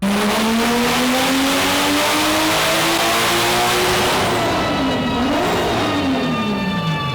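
A turbocharged stock-block BMW E36 M3 engine on pump gas roars under load during a dyno pull, its pitch climbing steadily through a long pull, then dropping off as it winds down; loud and continuous.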